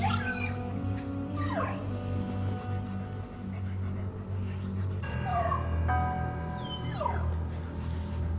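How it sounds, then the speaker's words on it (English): A dog whimpers and yips in a few rising and falling cries over a steady low hum of video game audio playing indoors during a Luigi's Mansion 3 livestream; no growl stands out. "No growling."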